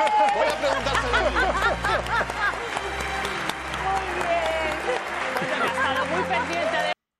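Studio audience applause on a Spanish television set, sustained clapping from a live crowd with scattered chuckles and a voice talking over it, loud and continuous before cutting off abruptly at the end.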